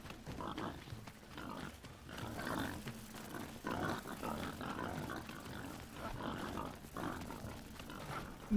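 Pigs in the video game Enshrouded grunt and snort repeatedly at moderate volume, a rough, rhythmic chorus of oinks continuing over a low background din.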